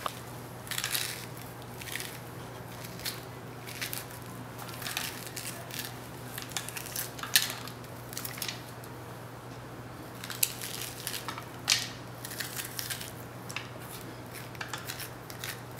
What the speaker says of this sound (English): so then I cut it in quarters, and then I'm just gonna take the seeds out with a spoon